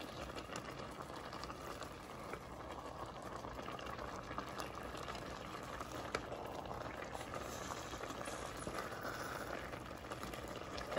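Water boils in a pot of gulban grain porridge, a steady, close bubbling and simmering that runs evenly throughout with no voices.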